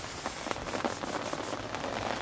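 A spray can sprays lacquer onto an alloy wheel, a steady close hiss with faint sputtering pulses that carries on without pause, and no talk over it.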